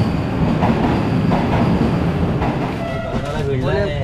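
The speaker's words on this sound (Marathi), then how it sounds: "लोकल ट्रेन आलेली आहे इथे." Local train standing at a Konkan Railway station platform, a loud rumbling, hissing train noise with clattering and platform crowd murmur throughout.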